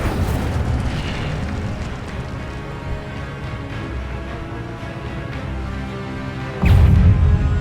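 The Incendio fire spell cast in Hogwarts Legacy bursts out as a loud, deep fiery whoosh, with a rumbling blast swelling sharply near the end over a continuous roaring wash.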